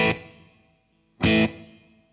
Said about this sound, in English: It's got a reverb tank in it, so I can turn that off and it sounds like this.